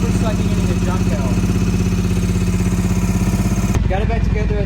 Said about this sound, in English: It's idling at about, it's searching a little bit.